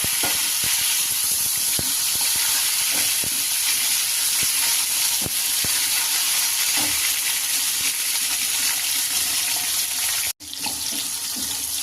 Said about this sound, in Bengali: টমেটোগুলো সব ভালো ভাজা হয়ে গেছে